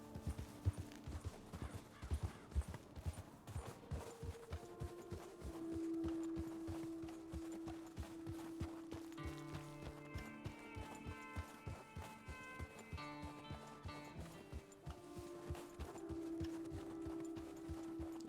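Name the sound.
horse hooves clip-clopping while riding in video game Red Dead Redemption 2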